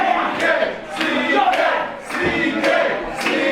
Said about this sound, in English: Crowd calling out for Magnum CK.